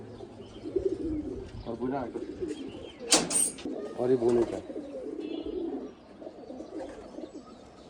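Pigeons kept in a loft coo in soft, repeated rolling calls close by, with a sharper flutter or call burst midway, while people talk over them.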